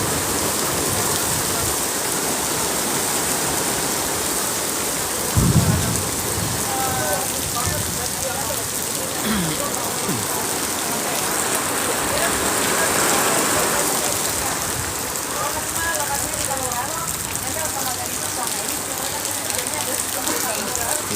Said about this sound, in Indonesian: Oh, makin deras teman-teman hujannya.